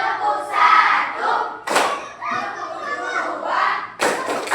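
A classroom of students doing a call-and-response clapping routine, with two sharp bursts of group claps standing out amid loud overlapping voices and chanting.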